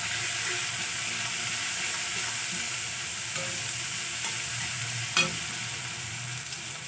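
Spices stirred and fried in a pan with a spatula for an eggplant bharta: ground coriander and Kashmiri chilli powder sizzling in a steady, close hiss, with one brief scrape near the end and no talk.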